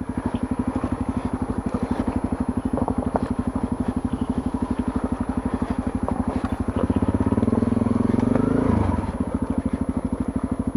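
Honda CRF250L dual sport motorcycle riding through a creek, its engine chugging steadily up close, then revving harder near the end before easing off.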